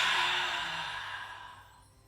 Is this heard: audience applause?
no